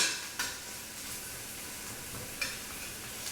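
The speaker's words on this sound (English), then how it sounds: "But saute the fat and keep the oils for the flavor" Beef fat sautés in olive oil in a pot for carne guisada, a soft continuous sizzle with a couple of light utensil scrapes and knocks, quiet and without voices.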